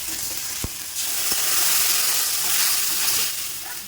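Ginger garlic paste dropped into hot oil for a dal tempering: a couple of sharp taps, then a loud, steady sizzle swelling up close for a few seconds before easing off, with no talking.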